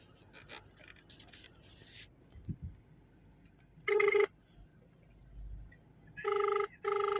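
A phone rings back on an outgoing call, two short electronic ring tones in a quiet room following rustling handling noise, the rings clear and close with no talk.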